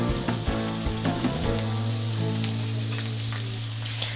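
Chilli and turmeric powder are stirred into Bengali fish curry (macher jhol) in a pan, with a constant sizzle and bubbling under repeated scraping and clinking of a spoon, plus a steady low hum throughout.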